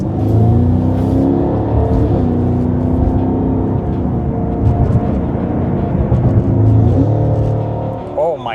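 A Cadillac CT5-V Blackwing with a supercharged engine pulls away hard from a standstill, a loud sustained engine roar with a steady whine that holds, then eases off toward the end.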